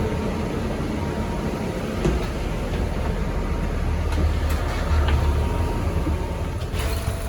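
Steady interior rumble of a moving bus, with a broad droning engine and road noise plus occasional faint rattles and clicks, continuous throughout with no talking.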